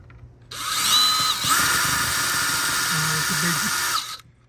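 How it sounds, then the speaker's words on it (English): A power drill whines steadily for a few seconds at close range while removing a large screw from a floodlight housing, starting and stopping abruptly, with faint voices underneath. "let's get our drill. See if we can coax it out of there."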